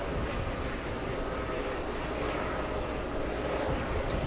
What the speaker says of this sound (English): There goes the Qatari exec jet.